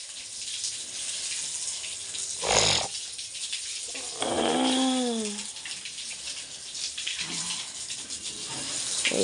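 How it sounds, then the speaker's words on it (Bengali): Water from a hose pipe gushes steadily while washing down a surface, a continuous broad splashing rush with a sharp knock early and a short whining sound midway. "পাইপ দিয়ে জল দিয়ে আগে ধুয়ে দিচ্ছি"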